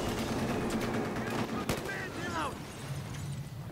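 Rapid gunfire crackles in the video game Battlefield Hardline as bursts of shots fire in quick succession against a busy combat background, with a voice talking over it.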